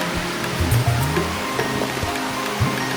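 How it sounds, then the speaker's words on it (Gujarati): A river fed by a waterfall at Osham hill near Patanvav rushes past nearby in a steady, full broadband wash with small splashy accents, heard alone without talk. "જો નદી જાય છે બાજુમાંથી. આ વોટરફોલની નદી છે."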